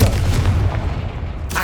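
A Confringo blasting spell exploding in the Hogwarts Legacy video game, a single loud booming blast with a rumbling low-end tail.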